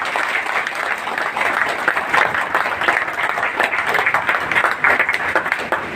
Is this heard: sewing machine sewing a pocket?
no